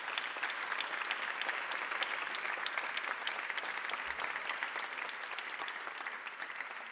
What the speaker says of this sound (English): So please give a round of applause to last year's winners